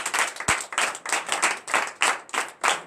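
A morning prayer congregation claps in unison, about a dozen sharp rhythmic claps at an even beat, close and lively, with no talking over them.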